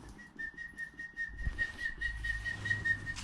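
A person whistles a steady, sustained high tone to call a puppy, holding it almost unbroken for several seconds, close and clear over faint background noise and low thumps.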